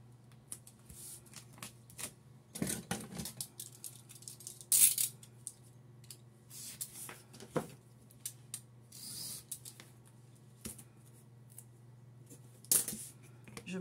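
Double-sided tape is applied to small cardboard pieces: faint, close rustles and crackly peeling bursts come at irregular intervals, separated by quiet gaps.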